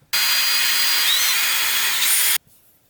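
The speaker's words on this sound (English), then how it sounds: "I'm going to drill some pilot holes first." A power drill drilling pilot holes whines loudly in one continuous burst of about two seconds, then cuts off abruptly into quiet.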